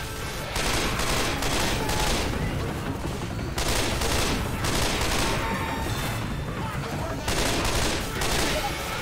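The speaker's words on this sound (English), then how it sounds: "Be ready to shoot that gas tank on the right. I'm gonna shoot the one on the left." Rapid bursts of automatic gunfire in the video game Left 4 Dead as players shoot at gas tanks, loud and sustained in long volleys with brief pauses between them.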